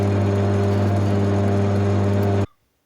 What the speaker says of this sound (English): I'm going to machine up these acetyl roller material, which is 6mm